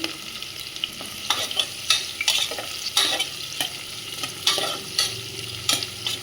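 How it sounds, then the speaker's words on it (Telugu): Green chillies sizzle and fry in a pan while a spoon stirs them, with scraping strokes recurring every second or so over a steady close sizzle. "ఇవి కొంచెం ఫ్రై అవ్వాలండి."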